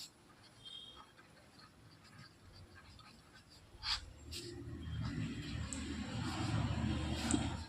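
A pen scratches across paper while a maths equation is written out, faint and close at first. Broader rustling and handling noise builds over the second half.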